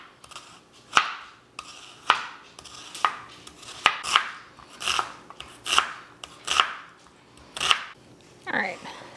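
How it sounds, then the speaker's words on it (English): A knife dices an onion with close, crisp chops in a steady, slightly uneven rhythm of roughly one or two strikes per second, with brief quiet gaps between cuts. "I'm gonna start by dicing up the other half of this onion."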